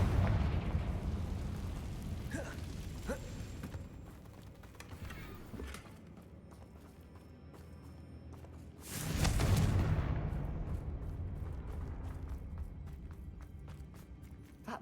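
A Confringo blasting spell goes off in the Hogwarts Legacy game, a loud broadband burst around the middle of the clip rising over a steady rumbling battle background with scattered smaller impacts.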